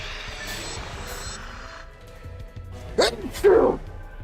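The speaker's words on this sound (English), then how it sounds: "One second, I gotta sneeze." A person sneezes in two sharp, close bursts near the end, after some quieter breathing and rustling.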